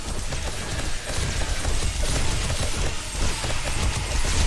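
Automated turrets fire in 7 Days to Die during a day 49 horde night, a fast, continuous mechanical rattle of gunfire, loud and steady throughout.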